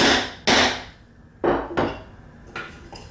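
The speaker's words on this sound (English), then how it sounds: "I'm just going to give it a few pounds with the hammer" Three sharp metallic taps from a hammer on a metal medallion, spaced about a second apart, each ringing briefly, close and fairly loud.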